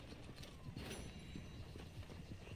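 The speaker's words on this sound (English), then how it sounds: "Oh, my horse is here." Horse hooves clip-clop at a steady walking pace in Red Dead Redemption 2, fairly close, over a dense, constant background ambience.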